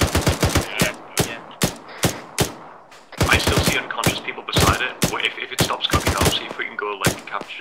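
Gunfire in ArmA 3 cracks out in loud, sharp rifle shots, some single and some in quick bursts, spaced irregularly across the clip alongside faint voices.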